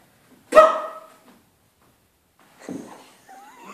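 A dog barks once, sharp and close, while practising tricks at home, followed after a pause by softer whining or grumbling sounds.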